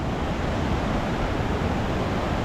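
River rushing through its rocky bed on a hiking trail, a loud, continuous broadband roar of flowing water filling the whole stretch, with no voices.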